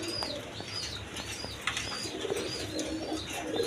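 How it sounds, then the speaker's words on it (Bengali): Jade Spring pigeons coo softly and flap their wings amid a steady flock murmur, with occasional chirps and a brief wing burst, moderately close and without talk. "ওই যে জেড স্প্রিং কবুতর, এইগুলা দোনোটা জেড স্প্রিং।"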